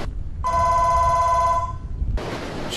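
A telephone in a low-budget film set in Ventnor rings with one long, loud electronic tone that is steady and harmonic-rich, followed by a rustle of noise as it cuts off. There is no talking.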